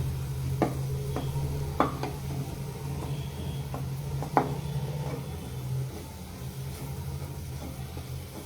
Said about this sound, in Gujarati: હવે ડુંગળી પણ થોડી સતળાઈ જાય